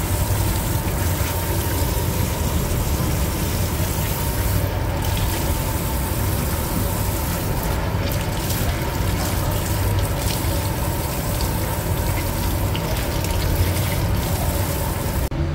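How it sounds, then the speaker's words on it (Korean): Cheongyang chili peppers rinsed under a running tap in a kitchen, a steady continuous splash of water with faint clatter, moderately close and without talk. "청양고추를 씻어 육수에 넣습니다."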